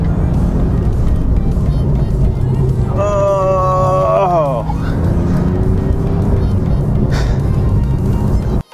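A Porsche 911 C4S drives hard through Southern California canyon road corners, its engine roaring steadily loud from inside the cabin, with a person exclaiming over the drone.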